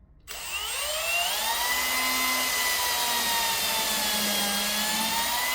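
A power drill bores dowel holes into a poly panel, its motor spinning up sharply and then holding a steady, close, high whine as the bit cuts through the material.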